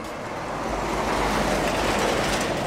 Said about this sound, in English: Oh, that's a big truck. Very big truck.